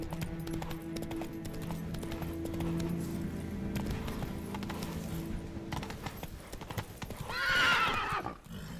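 A horse gallops with rapid, steady hoofbeats in the Witcher 3: Blood and Wine video game, ending in a loud whinny near the end.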